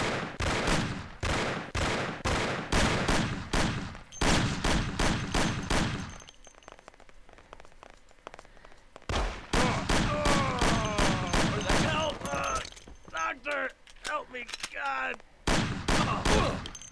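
Sustained bursts of rapid automatic gunfire from enemies in the Mafia video game rattle loudly and nearly continuously, broken by a brief lull before the volleys resume.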